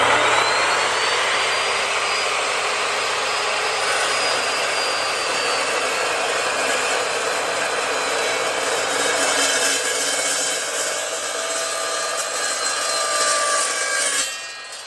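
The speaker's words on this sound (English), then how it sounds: "So let's get to cutting some material." Metal stock being cut for a Champion Blower and Forge 20 inch camel back drill press restoration, a loud continuous grinding whine that holds steady for many seconds, then stops abruptly.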